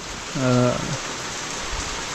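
Steady monsoon rain hisses evenly over a Konkan village, with a brief voice rising above it near the start before the downpour carries on alone at moderate level.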